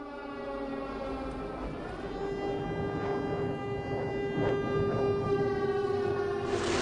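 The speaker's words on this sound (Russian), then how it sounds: "чё за ебучая сирена заиграла?" A sustained, wailing siren tone with steady harmonics plays continuously over a dense rumbling background in the video game Identity V, loud and unbroken throughout.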